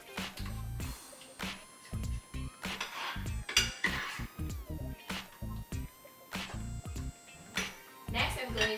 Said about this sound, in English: I'm going to mix that up, making sure to get all that lemon incorporated into my Greek yogurt.